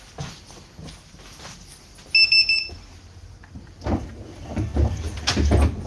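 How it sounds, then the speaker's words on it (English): A brief high electronic alarm chirps twice in a quick pulse from an IC CE school bus child check system, surrounded by thumps, handling noise and low rumbling movement. "So that system also doubles as a security alarm."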